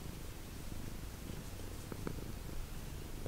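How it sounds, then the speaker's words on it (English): Continuous low, rumbling purr from a cat, steady and close, with soft rhythmic pulses throughout. "But she's been purring."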